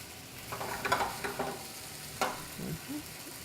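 Broccoli frying in a pan, a soft continuous sizzle with a few scraping stirs and clinks, close and quiet without talk.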